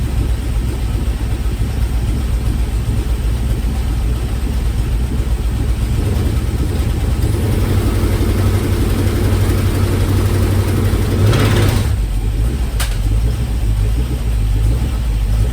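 A carbureted LS V8 running on its factory PCM with an eBay wiring harness and no MSD ignition idles steadily, a loud, close, deep rumble with a brief mechanical clatter near the end.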